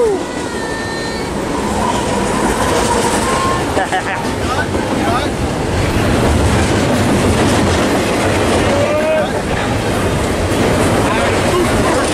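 An ethanol freight train passes Fullerton Station, loud and close, with a continuous rumble and clickety-clack of wagons on the rails throughout.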